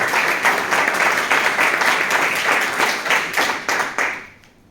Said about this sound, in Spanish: por favor un fuerte aplauso para él